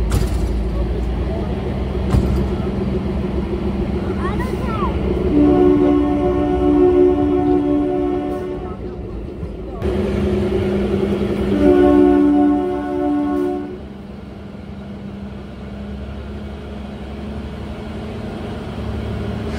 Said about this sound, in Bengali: আমাদের ট্রেন ছেড়ে দিল কালকা স্টেশন থেকে